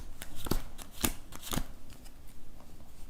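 Playing cards set down on a table for a no-setup trick, three soft slapping taps about half a second apart, close and fairly crisp, with no voices.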